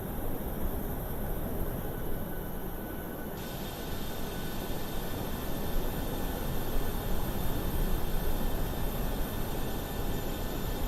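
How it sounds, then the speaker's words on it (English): A Boeing 737-800 takes off in Microsoft Flight Simulator, its jet engines producing a steady broadband roar that holds loud and unbroken throughout, with a slight shift in tone partway through and no speech. "Plane's taking off."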